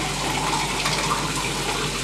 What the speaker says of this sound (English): we're going to measure out our hot boiling water